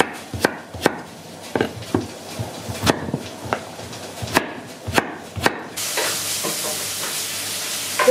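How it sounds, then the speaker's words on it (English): Zucchini is chopped into small pieces on a board, about a dozen sharp, irregular knocks close by, followed by a steady sizzle from a pan cooking pasta. "we're gonna chop our zucchini"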